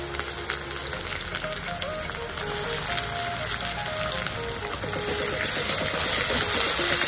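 Chopped onions hitting hot oil in a pan for homemade chicken curry, a steady close sizzle and frying hiss that grows louder over several seconds, with no talk.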